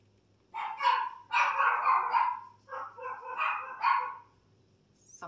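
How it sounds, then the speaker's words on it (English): Dogs bark indoors, close and loud, in a quick run of sharp, overlapping barks and yips that break into several bursts before stopping, with no one talking. "Sorry about dogs. They do that."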